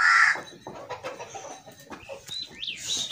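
A rooster clucks and calls nearby in short, uneven bursts, with a higher crowing note near the end and faint farmyard background.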